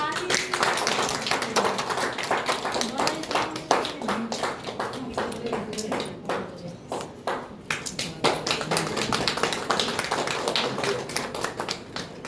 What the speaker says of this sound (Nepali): फेरि ताली।